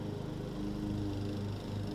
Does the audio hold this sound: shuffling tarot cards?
no